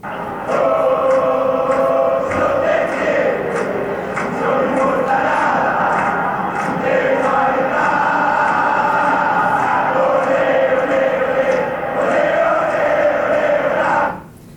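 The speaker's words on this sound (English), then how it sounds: "a game in where the team is losing 4-0, but the fans are still cheering them on" Roaring crowd of about 64,000 soccer fans at El Monumental stadium cheering on a team trailing 4-0, a loud continuous chant-like din with rhythmic swells that stays dense and close before cutting off abruptly.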